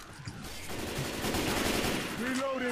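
Rapid, continuous gunfire from the video game Left 4 Dead 2 rattles loudly and steadily, with a voice briefly cutting in near the end.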